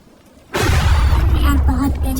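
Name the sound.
rain falling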